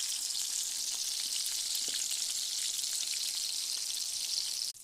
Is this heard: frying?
yes